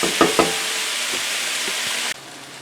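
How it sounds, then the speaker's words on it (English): Sausages and vegetables simmering in a pan give a loud, steady frying sizzle with a couple of brief utensil taps early on, the hiss dropping suddenly near the end. "we'll let that simmer in there with the veggies"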